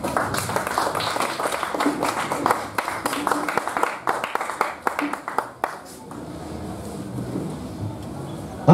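A church congregation claps in a steady rhythm for several seconds, with loud, crisp, evenly spaced claps that then fade into a quieter room murmur.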